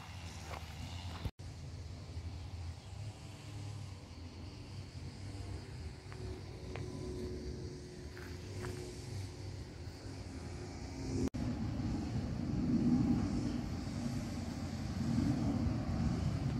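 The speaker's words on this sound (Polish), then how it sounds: "Tutaj niedaleko jest lotnisko Fiumicino i po prostu widać, jak startują samoloty i słychać." Airplanes taking off from nearby Fiumicino airport near Rome produce a steady low, broad rumble that swells louder toward the end, heard outdoors with no talking.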